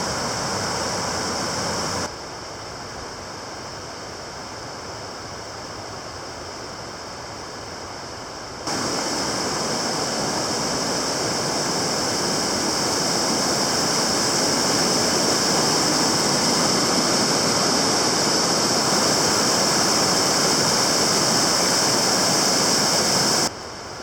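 Little River rushes below a trail bridge near the Husky Gap Trail junction, a loud steady broadband roar of flowing water with a brief quieter stretch early on before the full close roar returns, with no talk.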